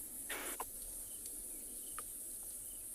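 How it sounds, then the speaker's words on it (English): Crickets and other insects chirp in the African bush at sunrise, forming a faint, steady high-pitched drone with a few short distinct chirps rising over it. "You can also hear lots of crickets and all sorts of other insects."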